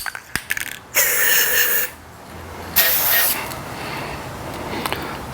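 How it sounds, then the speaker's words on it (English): Two bursts of aerosol spray paint hiss up close inside a dirt bike grip, each lasting about a second, with brief rubbing and handling noises around them. "we spray a little bit of paint on the inside of the grip"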